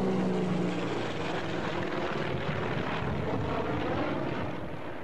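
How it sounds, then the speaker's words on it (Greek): A TV news helicopter flies over a wildfire spreading toward Parnitha near Athens, its engine and rotor making a steady, moderately distant drone that holds throughout. "Από το πρωί το ελικόπτερο του Αντένα με τον Νίκο Μάνας και τον πιλότο Ανδρέα Κοντ"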